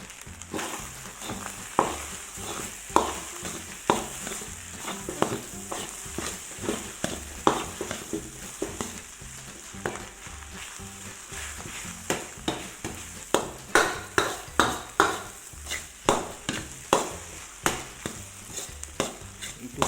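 Chinese egg fried rice stir-fried in a pan, with a steady sizzle under repeated sharp scrapes and knocks of the spatula that grow faster and more regular, close and alone without talk.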